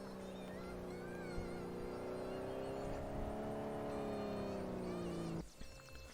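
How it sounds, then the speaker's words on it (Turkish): A car arrives in the survival video game Unturned, its steady engine drone holding a rising and falling pitch before cutting off abruptly near the end, with faint background noise. "Aha araba geliyor."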